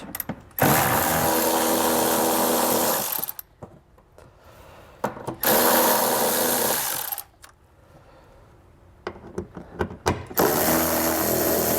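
A power tool with a 10mm socket whirs loudly while removing fasteners during a wiring harness installation on a 2018 Nissan, in three long close runs separated by pauses with clicks and handling.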